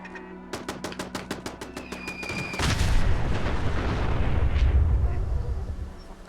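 In the game Fallout 4, a quick series of sharp gunshots is followed by a big, rumbling rocket launcher blast that lingers and rolls on for several seconds.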